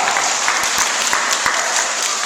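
A group of children at a park assembly claps loudly for themselves after a tree planting. The quick, overlapping applause has several crisp individual claps popping out of the steady roar.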